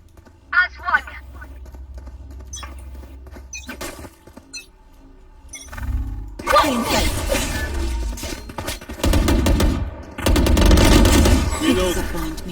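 Video game gunfire comes in scattered shots early, then heavy sustained automatic bursts and rattling volleys later, loud and close, while voices talk over the action at times.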